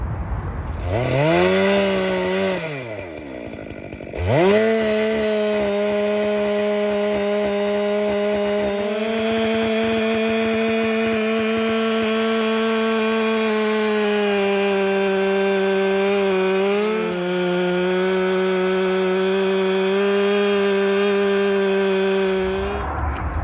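A chainsaw bores into a big white oak tree during felling, its engine revving up, briefly dropping, then snarling at a steady loaded pitch for a long sustained cut, loud and close with no talk.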